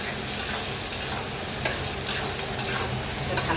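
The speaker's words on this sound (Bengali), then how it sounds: "কটা তেজপাতা দিয়ে পেঁয়াজ আর টমেটো দিয়ে দিচ্ছি।" Onions and tomatoes fry in oil with bay leaves and a pinch of salt for a country-chicken curry, a constant sizzle broken by regular scraping strokes of a spoon stirring the pan.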